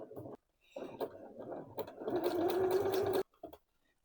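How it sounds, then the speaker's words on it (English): A sewing machine runs a zigzag stitch through skirt fabric in a short steady burst of whirring, preceded by softer handling noises and stopping abruptly. "now I'm going to stitch this together"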